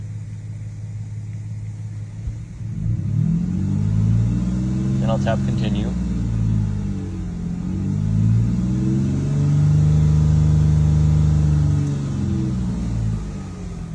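A car engine holds a steady elevated rev at around 2,000 to 3,000 RPM during a diagnostic scan-tool procedure, with a loud, close droning rumble that swells and eases slightly while someone speaks briefly over it.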